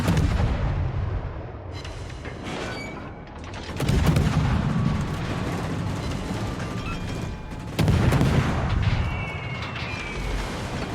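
A tank cannon in a tank video game fires HE shells, two heavy booming shots several seconds apart, each ringing out loud and close over a rumbling engine and battle ambience.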